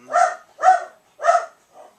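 A dog barks three times in quick succession, sharp and close, then lets out a softer fourth bark.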